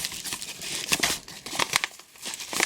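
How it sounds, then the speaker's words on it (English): A small product is packed into a small envelope, producing close, irregular paper crinkling and rustling bursts throughout, with no voices. "I am going to pack her product in a small envelope"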